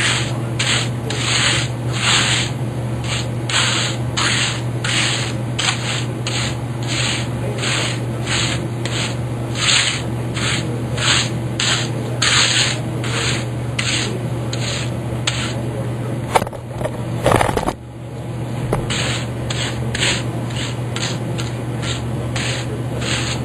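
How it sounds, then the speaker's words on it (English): A small drill fitted with a paint-mixer paddle churns concrete in a steady, close-up grinding whir, with rhythmic scraping pulses as the paddle sweeps the mix, and a brief clatter near the end. "we'll do it with a little drill and a mixer,"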